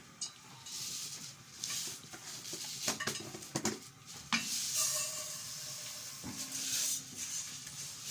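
Vermicelli stirred in a pot of oil and ghee, with a spoon scraping and clinking against the metal in irregular strokes over a soft, steady sizzle.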